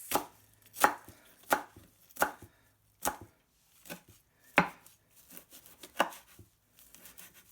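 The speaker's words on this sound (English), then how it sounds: "let's give this a rough chop to release those delicious aromatics" A knife roughly chops spruce tips and fresh mint on a board in about a dozen crisp, evenly spaced strikes, close and clear with no talking.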